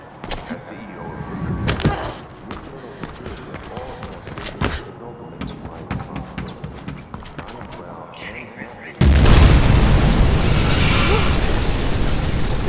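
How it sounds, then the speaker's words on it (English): Mirror's Edge Catalyst game audio crackles with pops and busy effects before a sudden loud, sustained roaring blast takes over and fills the rest of the clip. "big explosion over here!"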